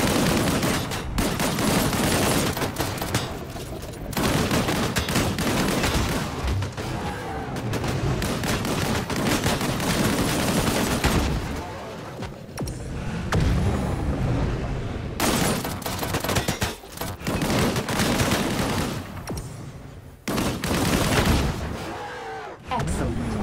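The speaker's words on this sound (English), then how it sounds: "Engage the enemies ahead using your primary weapon." Primary weapon fire in the sci-fi shooter Disintegration, near-constant loud bursts of automatic gunfire with explosions mixed in, broken by a few brief pauses over more than twenty seconds.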